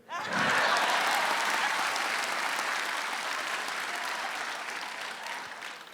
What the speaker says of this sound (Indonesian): Tepuk tangan buat Irfan Kartawirya.